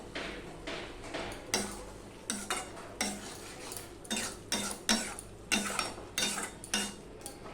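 A spoon stirs fish curry with chopped coriander leaves in a pan, giving a steady series of rhythmic scrapes and clinks, close and moderately loud.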